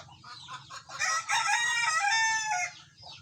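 A rooster crows once nearby, a long strained call rising and falling, with faint clucking before it.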